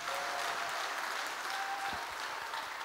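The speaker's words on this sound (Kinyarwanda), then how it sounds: "Mukomere Imana amashyi" A church congregation applauds steadily and loudly throughout, a dense sustained clapping with no talk over it.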